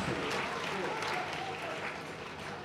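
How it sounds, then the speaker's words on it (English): A church congregation at a night prophecy service claps steadily for Jesus, a continuous dense roar of hands with crowd noise mixed in, filling the whole short stretch at moderate level. "Clap your hands for Jesus"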